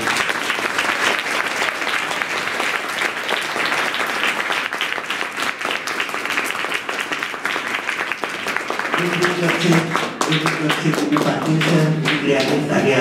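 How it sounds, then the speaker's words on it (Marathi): Sustained audience applause fills a hall after a Marathi talk on joining the NDA, dense steady clapping from a large crowd, with a voice entering faintly near the end. "जोरदार टाळ्या तुमच्या."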